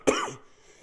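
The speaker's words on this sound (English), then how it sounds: "I think I'm gonna have to do a quick cough" A single quick, sharp cough from a man who is under the weather, close to the microphone, followed by a brief rough tail of throat noise.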